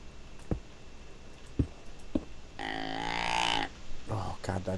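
A deer in modded Minecraft gives a short, harsh grunting call midway, surrounded by a few faint clicks and soft game sounds at low volume.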